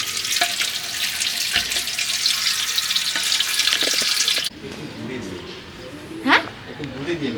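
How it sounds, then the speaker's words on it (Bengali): Cold water gushes loudly and steadily from a tap outdoors during homemade potato papad chip making, then cuts off partway through. People talk over and after the running water. "ঠান্ডা জল এখানে দাও তো, ছাড়ে দাও তো টিপটা।"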